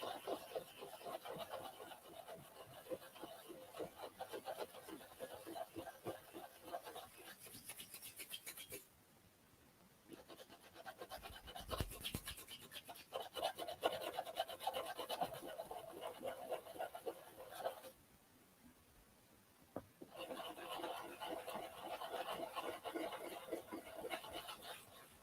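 Sandpaper rubs down a bump in quick, repeated scratchy strokes, faint and close, in long runs broken by a few short pauses, with light chuckling at times.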